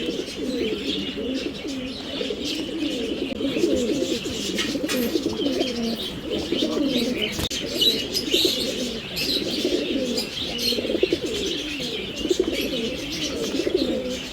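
Pigeons and other caged birds at the Mirpur pet bird market in Dhaka coo and chirp continuously, a dense layered chorus of soft cooing under scattered higher tweets, fairly close and steady throughout.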